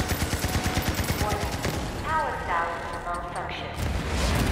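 Rapid burst of gunfire in the shooter game CrossFireX, a steady rhythmic volley of sharp shots at the start giving way to electronic effects and a louder blast near the end, with a voice talking partway through.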